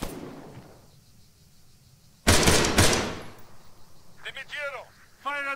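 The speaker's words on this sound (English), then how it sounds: "just firing fully auto into nothing" A short, loud burst of fully automatic rifle fire in ArmA 3, a dense rattle lasting under a second, with people talking before and after.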